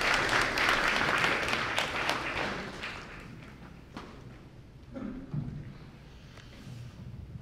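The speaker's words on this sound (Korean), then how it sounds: "박수로 맞이해 주시면 감사하겠습니다." Audience applause welcomes a speaker at an honorary doctorate ceremony at Myongji University, a broad clapping wash that is loud at first, then thins and fades over several seconds as a voice briefly begins.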